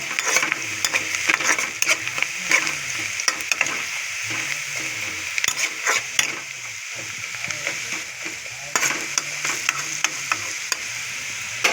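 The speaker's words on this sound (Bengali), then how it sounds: "তো আমি রসুনটা দিয়ে দিলাম, রসুনটা ভেজে নিলাম।" Garlic frying in hot oil over already-cooked onion for a chicken bone curry, a continuous loud sizzle with occasional stirring scrapes and utensil clicks up close, no talking.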